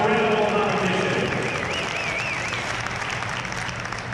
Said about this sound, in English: Give Jared a round of applause.